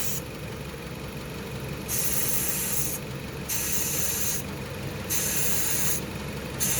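Refrigerant hisses from an overcharged Jeep Patriot A/C system as it is bled off. The steady spraying hiss pulses in several bursts over a low engine idle, heard up close and fairly quiet.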